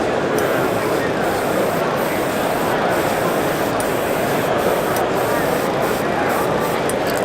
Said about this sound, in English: It's a refillable marker that you can put into the spray system.